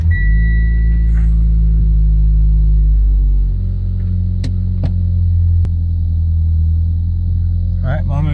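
A Mitsubishi Lancer rumbles loudly and steadily from inside the cabin at low speed, with a constant engine drone, a faint tone early on and a few sharp clicks or knocks near the end.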